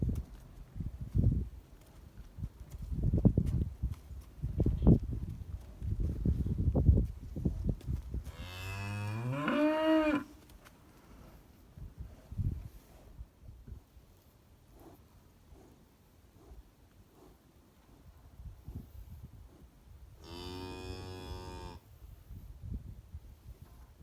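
Cattle on a ranch turned out to summer pasture give two long, loud moos several seconds apart, standing out over quieter rustling and scattered low thumps in the open air.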